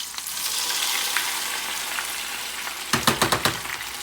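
Spicy plantain slices for Ghanaian kelewele fry in hot oil with a steady, close sizzle, then a quick run of sharp clinks and taps near the end.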